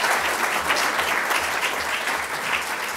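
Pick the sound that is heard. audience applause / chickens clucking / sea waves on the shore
audience applause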